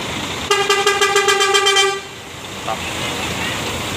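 A Karona executive-class bus, an ex-Ramayana coach in Almasar livery, sounds one loud, pulsing horn blast lasting about a second and a half. Road and engine rumble run underneath, followed by a brief faint toot.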